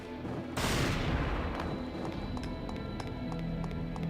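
Video game gunfire erupts in a heavy burst of blasts, then continues as a rapid, regularly spaced string of sharp shots over a rumbling game soundscape, loud and close.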